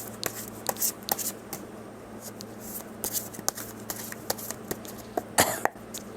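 Tarot cards from a second deck are shuffled close by in soft, irregular riffles and taps, with a steady low hum underneath and an occasional cough or throat clearing.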